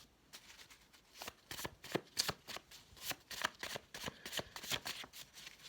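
Tarot cards being shuffled by hand, a steady run of crisp riffling and slapping bursts spread over several seconds, close and fairly quiet with no talking.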